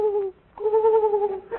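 Pigeon cooing close and loud, two drawn-out tonal coos separated by a short pause, clear and without talk.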